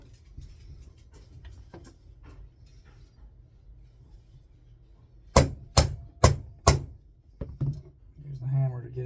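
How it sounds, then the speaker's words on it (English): A hammer taps a spring part into a Stevens Model 325c rifle with four sharp, close metallic strikes in quick succession, followed by two more after a short pause, over quiet room tone. "use the hammer to get it in the rest of the way."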